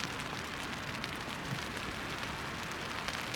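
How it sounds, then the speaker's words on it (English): Heavy rain drums steadily on a tent during a backpacking trip in Montana's Mission Mountains, a dense, even patter with no talking. "Alarm for 5 a.m. is raining pretty hard, and it's been raining all day."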